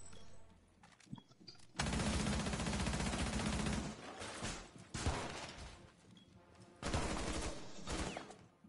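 Bursts of automatic gunfire with recoil in the video game Rainbow Six Siege, three loud sustained volleys separated by short pauses and quieter shots.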